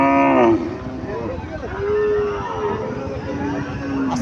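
A cow at a cattle market gives a long, loud moo at the start, followed by further lower, drawn-out bovine calls over a busy background.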